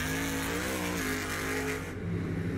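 A monster truck engine revs hard in played-back footage, its pitch climbing through a brief loud roar before dropping off, heard alone with no talk.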